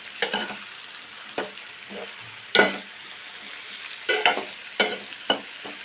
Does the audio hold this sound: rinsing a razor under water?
no